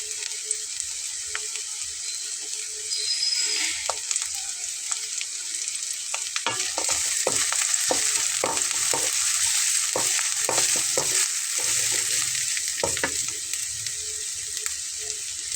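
Garlic hits a hot pan in a pumpkin-and-egg recipe, sizzling steadily while a utensil stirs and scrapes in irregular bursts, with no talk.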